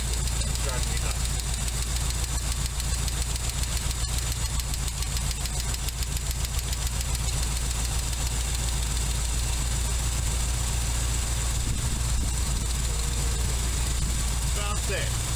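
Engine idling steadily with a fast, light ticking from a valve lifter riding over the low rumble; loud, close and continuous throughout.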